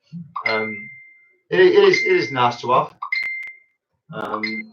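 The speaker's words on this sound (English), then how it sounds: "That is my phone going crazy." A phone keeps chiming with notifications. Short, bright electronic tones ring out at least twice between bursts of someone talking nearby.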